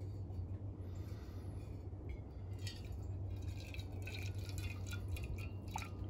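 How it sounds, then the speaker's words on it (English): Stove-brewed coffee from an IKEA stovetop pot is poured slowly into a cup outdoors, a thin steady trickle with faint dripping over a constant low hum, continuous for several seconds with no talking. "Let me do a slow pour with backhanded so you can see there's no grounds getting in there."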